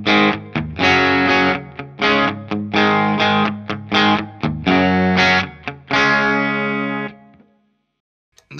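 Electric guitar played through an MXR Distortion+ pedal into an Iridium amp on its Marshall setting, heard as a run of loud, chopped distorted chords with short gaps, ending on a sustained chord that rings out into silence.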